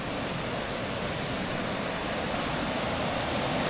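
Muota river in the Muotathal, Switzerland, running high in the early morning, a steady broadband rush of flowing water that fills the whole clip at an even level with no voices.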